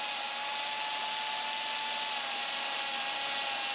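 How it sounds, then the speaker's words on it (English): Electric screwdriver gun backing out the pole pieces of a P90 guitar pickup during a baseplate change, giving a steady high-pitched motor whine that holds evenly and close for the whole stretch with no talk. "I'm going to use a trusty old screwdriver gun"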